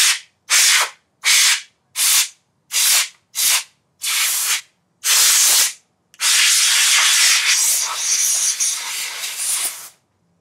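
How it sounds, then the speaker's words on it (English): An aerosol can sprays both sides of a modem to keep it from overheating: seven short, close hissing bursts in a steady rhythm, then one long continuous hiss lasting about four seconds. "I'll spray both sides. Just give it a good sweep, left to right, right to left, up and down"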